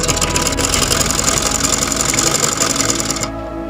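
A domestic sewing machine runs steadily while stitching a folded trouser hem, a dense continuous whirring motor sound that stays loud and even before stopping abruptly near the end; no talking.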